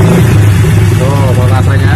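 A Honda Blade motorcycle engine idles loudly nearby and is revved a couple of times, with its pitch rising and falling.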